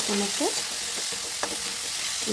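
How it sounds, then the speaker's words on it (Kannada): Chopped tomatoes fry in hot oil in a kadai with a steady, bright sizzle throughout, close and continuous, and faint stirring sounds underneath. "ಇದನ್ನು ಚೆನ್ನಾಗಿ ಫ್ರೈ ಮಾಡ್ಕೊಂಡ್ರಿ"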